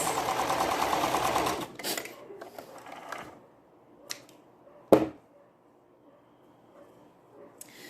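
A sewing machine stitches fabric in a dense, steady mechanical rattle for about a second and a half, then a few scattered clicks and knocks from the machine follow in near silence.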